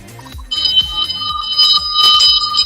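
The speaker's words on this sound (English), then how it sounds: "All the bells. All the bells." Bright, ringing bell tones in a music beat, sustained and layered over a rhythmic low thumping pulse, loud and close with no talking.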